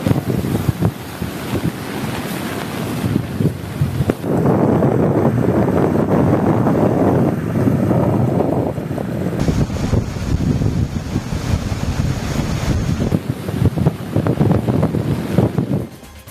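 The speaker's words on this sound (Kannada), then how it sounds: "ಸುರಿಯೋ ಮಳೆಯಲ್ಲಿ ಅಪ್ಪಳಿಸ್ತಾ ಇರೋ ಈ ಅಲೆಗಳ ನಡುವೆ ಚೆಲ್ಲಾಟ ಆಡಿದ್ದಾರೆ" Sea waves crash and roar continuously at Kudle beach in Gokarna during pouring rain, with strong wind buffeting the microphone and surges of surf rising and falling over a steady, dense wash of noise.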